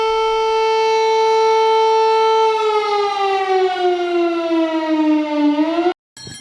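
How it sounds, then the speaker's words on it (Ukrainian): An air raid siren sounds at a church pilgrimage closing in Kamianka-Buzka, a loud continuous wail holding steady, then slowly falling in pitch before cutting off abruptly near the end. "Як ми закінчуємо цей відпуст е, звуком тривоги"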